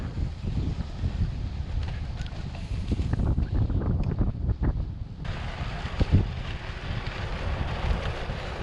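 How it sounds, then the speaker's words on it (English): Stiff wind buffets the microphone while riding a bicycle on a rough road, a constant low roar with gusty swells that ease briefly and then return at full strength. "A stiff wind depending on which direction you're riding in."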